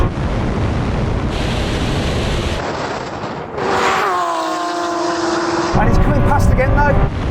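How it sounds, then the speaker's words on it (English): Lamborghini Aventador SVJ and Aventador Ultimae launching side by side in a drag race, a loud rising engine roar with wheelspin and rushing wind noise, the revs climbing in steady tones before a second surge near the end. "So it was spinning its wheels on the launch, but it didn't spin it quite as much."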